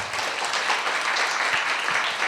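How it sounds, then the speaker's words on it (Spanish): A conference audience applauds a speaker, a steady wash of many hands clapping close and loud with no one talking. "Le damos un aplauso a Sergio"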